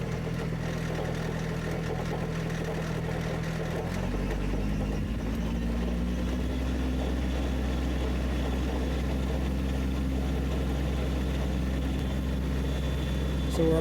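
A tractor-driven MechMaxx SG24 PTO stump grinder runs at speed, a steady loud engine drone whose pitch shifts as grinding into a stump begins, with a voice talking over it.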